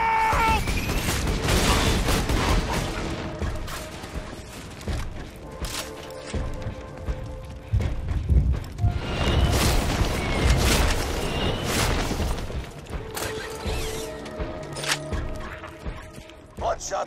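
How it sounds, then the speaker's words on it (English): Gunfire in the video game Borderlands 2, repeated booming shots and crashes mixed into a loud, busy battle soundscape with talking voices over the top throughout. "I'm hearing more gunfire than usual."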